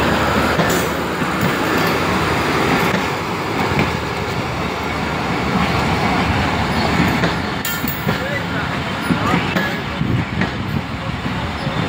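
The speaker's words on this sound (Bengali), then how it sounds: "ট্রেন যাচ্ছে।" A train rolls past close by, a loud, continuous rumble and clatter of wheels on rails that fills the whole stretch without letup.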